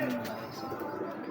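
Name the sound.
pigeon cooing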